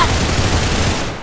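Dense burst of video game gunfire from a sniper rifle, loud and continuous across a short stretch, with a possible voice faint underneath.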